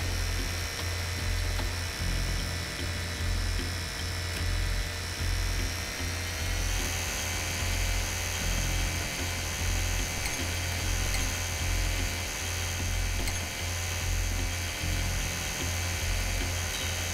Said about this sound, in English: Increase the speed setting on the drill.